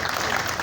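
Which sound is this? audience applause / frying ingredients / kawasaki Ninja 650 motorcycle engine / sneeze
audience applause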